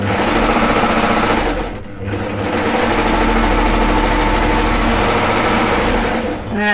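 A sewing machine runs steadily, stitching sleeve pieces onto a garment, loud and close with a continuous motor whir and a short pause near the two-second mark before resuming.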